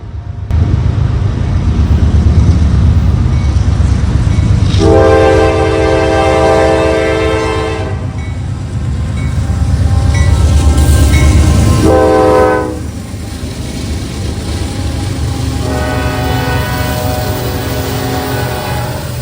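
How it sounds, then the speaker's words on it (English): A Norfolk Southern intermodal train, three locomotives hauling containers and trailers, rumbles steadily past close by while its horn sounds in two long blasts and a third shorter series, with no talk. "Norfolk Southern Intermodal Train 28N was next in line, on another daily journey between Chicago, Illinois and Charlotte, North Carolina"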